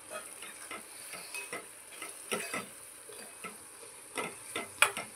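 Red chilli powder and spices roasting in oil for egg bhurji, soft sizzling under repeated light spatula scrapes and taps in an uneven rhythm, with a sharper clink near the end.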